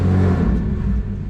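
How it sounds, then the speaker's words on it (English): A BMW 340i xDrive with a top-mount single turbo kit and new exhaust starts up, giving a loud, deep engine rumble and flare that settles almost at once into a lower idle. "First startup with a new kit with some real exhaust."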